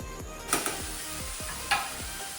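Onion fries in a kadhai over a gas flame, giving a steady close sizzle broken by several scraping stir strokes and two sharper metallic clanks; no one speaks.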